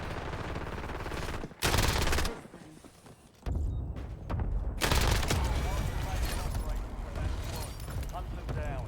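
Sniper rifle fire in the Warzone battle royale game, sharp loud bursts standing out against continuous combat noise and ambient game sound, with people talking throughout.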